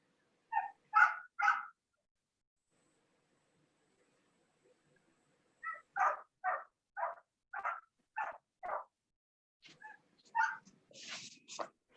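A dog somewhere in the room during a committee meeting gives three quick barks, then after a pause a longer run of about ten steady barks, ending in a few softer yelps; no one speaks over it.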